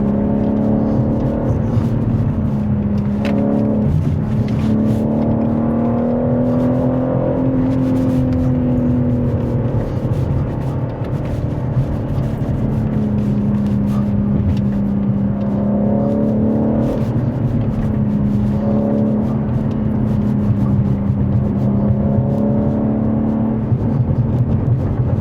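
2023 BMW M3 Competition xDrive cruising, heard from inside as a steady engine drone with gently rising and falling pitch and continuous road roar, no voices.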